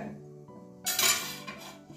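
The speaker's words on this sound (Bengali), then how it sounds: "এবারে ঢাকনা খুলে নিচ্ছি।" Metal lid lifted off a pan of katla fish curry, a single clattering scrape and clink of metal on metal, close and brief, over a quiet kitchen hum.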